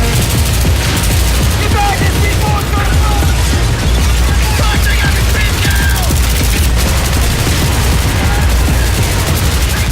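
Carbine gunfire in the Battlefield 3 Close Quarters video game, dense rapid bursts of shots layered with booms and clatter, loud and continuous across the whole stretch with no clear pauses.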